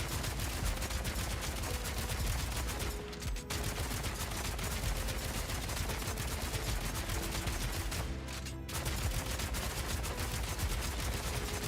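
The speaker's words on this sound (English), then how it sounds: "Look how fast I shoot fragmentation rounds." Fragmentation rounds fired rapidly by a Witch Hunter in Bulletstorm: a relentless, evenly paced stream of sharp shots with explosive pops, sustained and loud, with two brief pauses.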